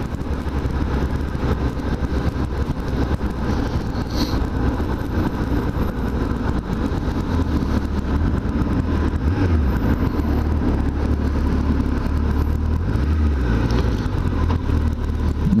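Suzuki Hayabusa sport motorcycle engine while riding in traffic in Japan: a steady, loud low drone with wind rush runs throughout, holding fairly even with no clear revs.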